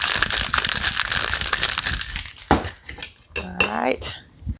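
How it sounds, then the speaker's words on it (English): Electric Lemonade cocktail shaken hard in a cocktail shaker, a loud, steady rattle of ice against metal for about two and a half seconds, then a few scattered clinks and knocks close by. "Let's give this a shake first."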